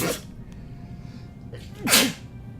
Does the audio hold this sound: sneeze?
yes